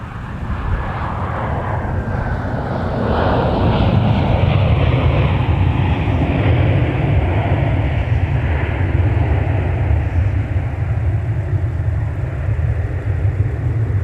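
An aircraft lands on runway 12 right at Minneapolis airport, its engine roar swelling after a few seconds into a loud, steady rumble that carries on to the end, with no voices.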